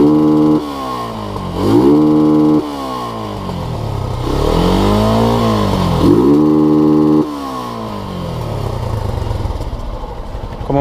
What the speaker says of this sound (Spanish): Este es el sonido del escape original.